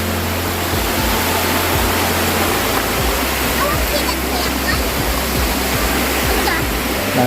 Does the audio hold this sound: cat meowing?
no